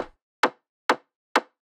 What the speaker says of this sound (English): You really need a fat kick like this together with a Reese bass